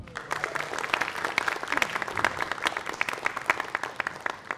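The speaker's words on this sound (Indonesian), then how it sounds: "Tepuk tangan dong buat teman-teman." Audience applause at an Indonesian stand-up comedy open mic taping in Maluku, dense steady clapping filling the whole stretch with a few louder claps standing out.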